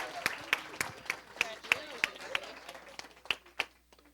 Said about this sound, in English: another round of applause for the City of Miami